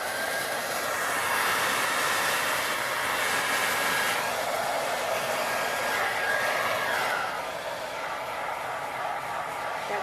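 A hair dryer blows steadily on a resin art pour, a loud continuous rushing roar that holds for the whole stretch with only slight shifts.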